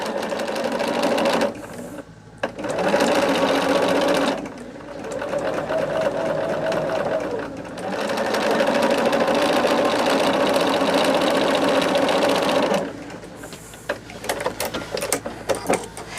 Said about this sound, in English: So I'm just sewing along, guys, and bringing y'all along with me.